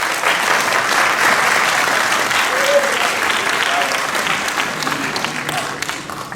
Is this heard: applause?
yes